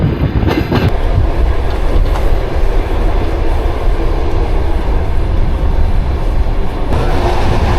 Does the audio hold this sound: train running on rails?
yes